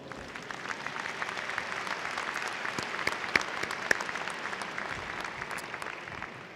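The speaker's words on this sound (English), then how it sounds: "let's give him a round of applause" Steady applause from a graduation ceremony audience at a School of Education event, honoring an absent graduate in health, sport and exercise sciences; dense, even clapping sustained throughout with a few sharper claps standing out.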